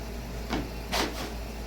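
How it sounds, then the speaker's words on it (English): Plastic retaining clips on the panel of a GE laundry center pop open with two short scraping clicks about half a second apart, close and fairly quiet, over a steady low hum. "That way the clips push open and you're able to remove that panel."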